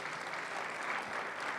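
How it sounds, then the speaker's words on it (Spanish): Church congregation applauding in steady, continuous clapping that fills the space, loud and even throughout with no talk on top. "Dale un aplauso al Señor"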